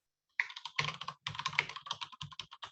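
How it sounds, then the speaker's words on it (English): Rapid typing on a computer keyboard, a steady run of light key clicks close by with a brief pause partway through, and no talking. "we can hear him typing"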